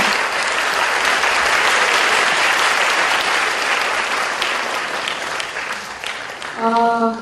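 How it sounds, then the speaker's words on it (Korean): Sustained applause from an indoor audience at a book concert and talk event, dense and steady for several seconds, easing slightly before a short musical chime sounds near the end. "큰 박수 부탁드립니다."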